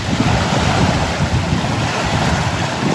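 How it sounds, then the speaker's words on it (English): Strong wind gusts across a lake shore and buffets the microphone with a constant roaring rush and low rumble, loud and unbroken throughout, with no voices. "as you can see, it's quite windy"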